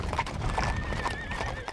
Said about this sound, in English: Back on the move, the horses pick up the pace